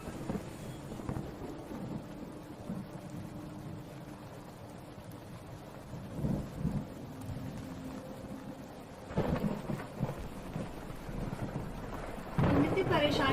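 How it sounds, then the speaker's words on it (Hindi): Distant thunder rumbles several times over a steady wash of rain and wind, growing louder toward the end. "लगता है बहुत भयानक तूफान आने वाला है।"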